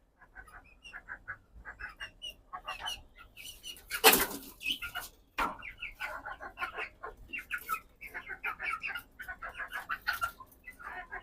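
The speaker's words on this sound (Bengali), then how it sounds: "ওটা দেশি মুরগির বাচ্চা" Native chicken chicks and fowl chirp and cluck in a rapid, busy series, with a burst of wing flapping midway; close and fairly loud, with no talk.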